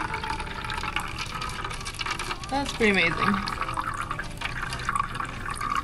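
A steady stream of running water pours continuously, close by, while a person speaks briefly over it.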